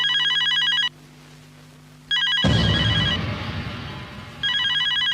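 Telephone at a home ringing with a repeating electronic ringtone in bursts, pausing in between, with a sudden loud rustling thump partway through before the ring resumes; no one speaks.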